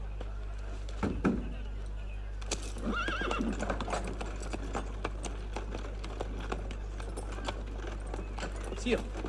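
Horse hooves clip-clopping and a horse neighing in the Assassin's Creed Unity video game, in a Paris estate setting, with clear hoof beats and a whinny under a steady hum and game voices.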